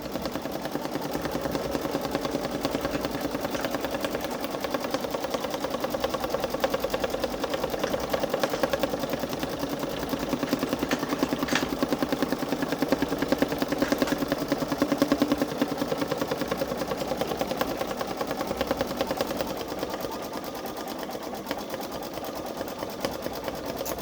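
A Babylock Solaris Vision embroidery machine stitching out a patch, its needle mechanism buzzing in a fast, steady, even rhythm at close range for the whole stretch, with faint motor hum underneath.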